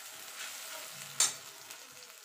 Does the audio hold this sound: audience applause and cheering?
no